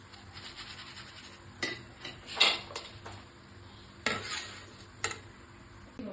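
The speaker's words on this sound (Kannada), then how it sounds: "ನೋಡಿ ಅವಲಕ್ಕಿ ಹಾಕ್ತಾಯಿದ್ದೀನಿ" Flattened rice (poha) tipped into a pan for a homemade mixture snack gives soft scraping and stirring with a few sharp metallic clinks of a utensil against the pan, spread over several seconds without talk.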